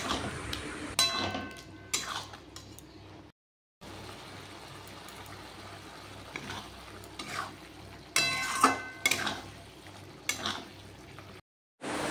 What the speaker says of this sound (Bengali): হলুদ দেওয়ার পর এখন মশলাটা ভালো করে কষাবো